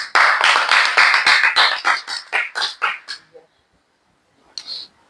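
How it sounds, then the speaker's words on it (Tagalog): Congregation applause at a church meeting: a burst of rhythmic, fairly loud clapping that comes in steady pulses, thins and fades out after about three seconds, followed by a brief faint flurry of claps near the end. "Palakpak."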